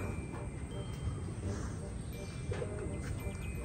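Soft pigeon coos at close range inside a loft over a constant background hum, with low murmuring voices now and then.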